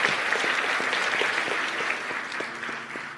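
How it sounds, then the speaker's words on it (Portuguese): A church congregation at the ADORAI 2024 worship gathering gives a sustained round of applause, a steady wash of many hands clapping at moderate volume throughout, with a faint low hum underneath. "Uma salva de palmas."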